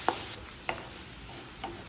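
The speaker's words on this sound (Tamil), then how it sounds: "வெங்காயத்தை நல்லா கலர் மாறுற வரைக்கும் வதக்கிக்கலாங்க." Sliced onion sautés in oil in a kadai with a soft steady sizzle, and a few light scrapes and taps come from stirring.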